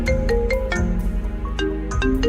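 A loud electronic ringtone plays a repeating melodic phrase of bright tones, close and clear, with no voices over it.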